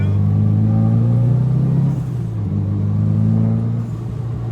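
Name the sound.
JDM drift cars JZX90 and R32 at Circuit of the Americas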